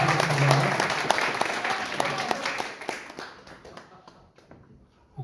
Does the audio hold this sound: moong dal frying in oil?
no